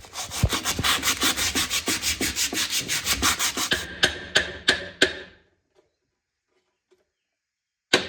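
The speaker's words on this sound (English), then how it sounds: "We're gonna give this a light sand" A metal gearbox from an MTD tiller chain case being lightly sanded by hand: quick rhythmic rasping strokes, then a few separate scrapes, and silence after about five seconds except for a final tap.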